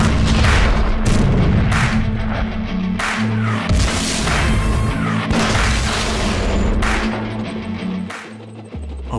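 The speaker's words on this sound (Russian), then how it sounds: "хорошенько сведись и делай выстрел прямиком в ствол" Soviet tank cannon fire in an animated cartoon: several heavy, booming shots in quick succession, each a loud blast with a rolling tail, close and dominating.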